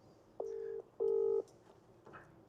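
Outgoing WhatsApp video call ringing: two steady electronic ring tones of about half a second each, separated by a short gap, followed by a fainter third tone, fairly loud over a quiet background.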